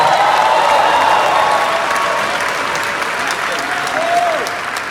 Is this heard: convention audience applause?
yes